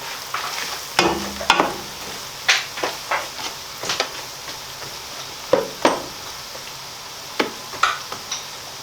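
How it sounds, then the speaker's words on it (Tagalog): Garlic and onion sautéing in a pan, stirred with a utensil that clicks and scrapes against the pan in irregular taps over a steady soft sizzle, close and alone with no voices. "Halu-haluin lang po natin. Hanggang sa lumabas yung kanyang aroma,"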